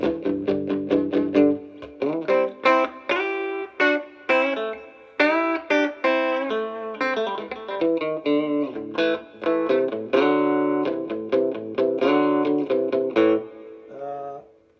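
Twangy plucked bass guitar notes through a 1976 Fender Musicmaster Bass amp with reverb, played in a steady melodic run, bright and ringing with a wash of reverb trailing each note, loud and close.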